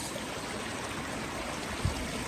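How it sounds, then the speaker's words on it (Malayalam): Heavy rain and a hillside waterfall make a continuous, even rush of falling water, broad and unbroken, with one soft low thump near the end and no voices. "നല്ല മഴയും നല്ല വെള്ളച്ചാട്ടവും ഇതൊക്കെ"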